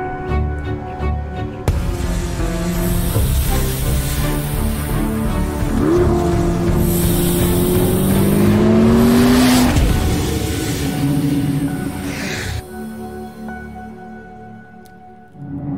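A Chevrolet Corvette ZR-1 engine roars loud and continuous, with rising revs and a sustained high-pitched howl near the middle before it tapers off at the end.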